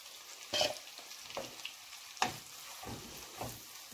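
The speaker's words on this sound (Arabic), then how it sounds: "غادي نخلط هذيك البصله مع الزيت والزبده وغادي نخليها هكا كتشحر واحد شويه" Chopped onion frying in a mix of oil and butter, a steady close sizzle broken by several sharp utensil clatters against the pan.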